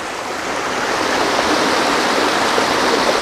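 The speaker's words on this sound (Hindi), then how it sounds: "पानी की स्पीड बहुत तेज है यहाँ पर," Fast-flowing stream water at a hillside shrine, a loud, steady rushing roar close by, broadband and unbroken, with no voices.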